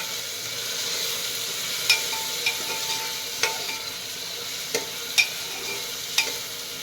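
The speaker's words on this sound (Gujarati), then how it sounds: "હવે આપણે એમાં એક નંગ ઝીણું સમારેલું ટામેટું ઉમેરીશું અને એને પણ થોડું સાંકળીશું" Finely chopped tomato sautés with onion in a pan, a steady soft sizzle broken by several sharp clinks and scrapes of a spoon stirring, with no talking.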